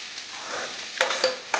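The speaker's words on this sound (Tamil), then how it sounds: "ஒரு சைடு ஆனியன் நல்லா ஃப்ரை ஆகிட்டே இருக்கு" Onions frying in a pan for a chana masala, a steady soft sizzle running throughout with a few sharp clicks of a spoon against the pan near the end.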